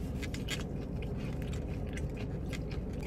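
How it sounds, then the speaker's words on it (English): Crunchy pickles from Dave's Hot Chicken bitten and chewed up close, with steady wet crunching and mouth sounds across the whole moment and no talking. "The crunch in these pickles are amazing."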